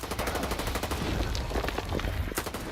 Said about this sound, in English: I'm just gonna shoot this thing.